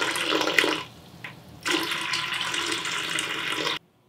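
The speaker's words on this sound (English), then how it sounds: "Now we're gonna start pouring some of the other tank water in." Water from another tank is poured into a marine aquarium, a loud, steady splashing rush that dips briefly, surges back and then cuts off abruptly.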